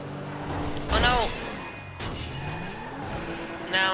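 A car in the GTA Online video game drives, revs and swerves, with engine surges and a brief tire skid near the start and again at the end, at moderate loudness.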